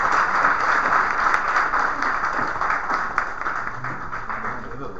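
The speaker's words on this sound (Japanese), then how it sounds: "もう一度大きな拍手をお願いします" Audience applause after a design talk session, a broad steady wash of clapping from a seated crowd that holds fairly even for several seconds and eases slightly toward the end.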